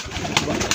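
Pigeons cooing indoors in a room at night, a soft, steady murmur of throaty coos with a few brief louder calls standing out.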